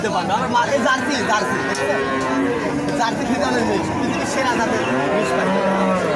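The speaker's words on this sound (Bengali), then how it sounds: "অনেক বিগ সাইজ গরু দর্শক দেখতে পাচ্ছেন" Cattle low and moo amid a busy cattle market at Oronkola, with people chattering and shouting close by throughout.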